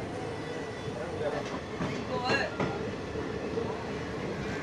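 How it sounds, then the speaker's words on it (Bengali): A train pulls out of Pamban station toward Pamban Bridge, a steady rolling rumble of wheels on rails with a few metallic clanks and squeals rising and fading, heard from aboard at moderate distance. "পাম্বান স্টেশন থেকে ট্রেন ছেড়ে দিল"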